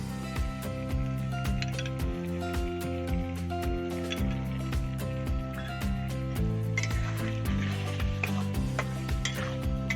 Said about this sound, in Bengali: এই পর্যায়ে দিয়ে দেব 4 চামচ ফেটিয়ে রাখা টক দই।